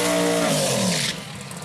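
Camaro drag car with a biturbo V8 at an arrancada drag-racing event, a loud close roar that sweeps through a rising pitch and then cuts off into a fading rush within about two seconds.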